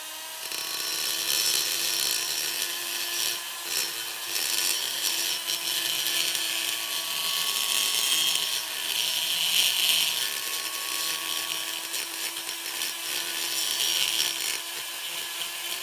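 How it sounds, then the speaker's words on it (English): A burr grinder ports an LS1 cylinder head with a continuous high-pitched grinding whine, loud and close, its pitch and intensity shifting slightly as the bit bites into the metal, with no talking. "I might have to change out the bit on this Burr grinder."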